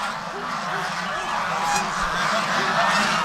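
A flock of geese on a rural goose farm honks repeatedly in a steady, overlapping chorus, loud and close, with the nasal calls rising and falling over several seconds.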